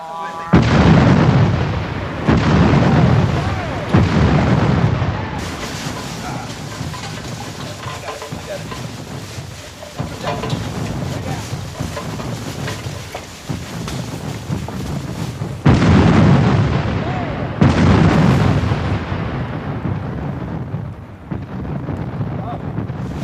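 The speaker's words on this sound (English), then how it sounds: "Union artillery, thinking the firing signaled a night attack, opened fire with shell and canister." Union cannon in a 1988 Civil War re-enactment of the Battle of Chancellorsville fire shell and canister: several heavy booming blasts rumble out at uneven intervals, loud and near, with wind buffeting the microphone between shots.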